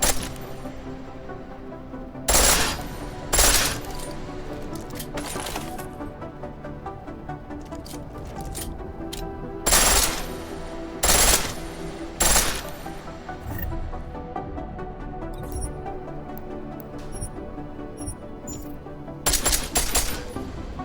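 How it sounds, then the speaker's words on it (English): Full-auto pistol fire in the game Deus Ex: Mankind Divided, sounding as several short, loud bursts spread through a steady backdrop of game ambience and music, with no voices. "The pistol in full auto will take down targets fast, but it'll burn through your ammo."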